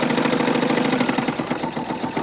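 A sewing machine stitches a cinch sack in a steady, fast mechanical whir with rapid regular needle pulses, close and continuous throughout.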